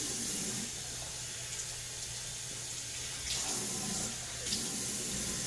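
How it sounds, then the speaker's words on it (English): Tap water runs steadily into a sink while a hand towel is wetted under it, a close, continuous gush that swells briefly as the cloth moves through the stream. "First of all, I'm going to get my hand towel wet."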